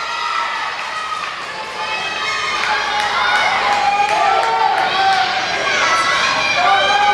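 A wrestling event crowd cheers and shouts at a live match, a loud, steady roar of voices that swells in the second half, with scattered higher yells rising above it.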